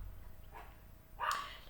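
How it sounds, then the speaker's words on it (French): Small dogs barking indoors, a faint short bark followed by a sharper, louder yip, both somewhat distant against quiet room noise. "J'ai les bébés qui aboient."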